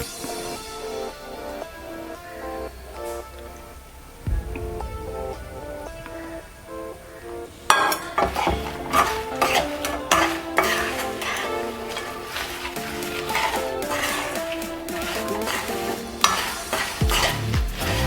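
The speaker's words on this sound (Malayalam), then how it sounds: "ഒരു കുറച്ച് നേരം കൂടെ ഇങ്ങനെ തന്നെ ഇളക്കിയിട്ട് നമുക്ക് വാങ്ങി വയ്ക്കാം" Fried mango pickle stirred in hot oil in a pan, a quiet start giving way to loud, repeated spoon scrapes and clinks over a bright, crackling sizzle.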